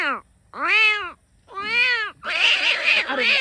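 A voice imitating cats: three drawn-out, rising-and-falling meows, then harsher overlapping yowls like cats fighting, loud and close.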